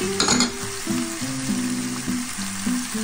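Ginger and sliced onion sizzling in hot oil alongside browned chicken pieces for chicken adobo, a steady close crackle with occasional stirring clatter and no talking.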